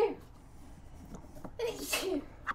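A single sneeze inside a motorhome, fairly close and sharp, preceded by faint rustling and a soft vocal sound.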